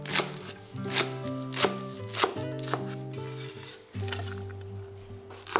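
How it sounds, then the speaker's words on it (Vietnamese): A knife chops green onions rapidly on a cutting board, sharp taps in quick irregular bursts, close by with a faint musical background. "Sắc nhỏ hành lá để làm dầu hành mình ăn kèm ha."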